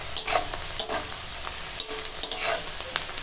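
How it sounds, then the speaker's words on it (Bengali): Chopped onions and green chillies fry and sizzle in a pan, with a spoon stirring them in repeated scraping strokes, close and alone. "পেঁয়াজ কাঁচা লঙ্কা ভালো করে ভেজে নেব,"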